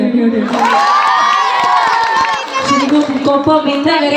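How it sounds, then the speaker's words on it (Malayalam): A large crowd at a shop event claps and cheers loudly, with shouts and whoops rising over dense, continuous applause close by. "എല്ലാരും കൂടി പടക്കനായിട്ടൊരു കൈയടി"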